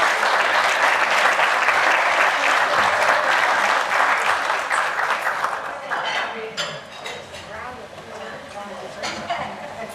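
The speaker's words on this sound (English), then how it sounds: "let's give the ICC a round of applause" A round of applause breaks out at a bowling hall of fame dinner, loud and dense at first, then thinning into scattered claps as a voice begins speaking over it.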